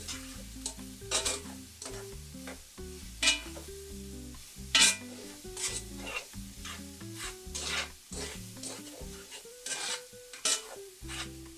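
Food sizzles steadily in a very hot skillet while a utensil stirs and scrapes at intervals, with background music running underneath throughout.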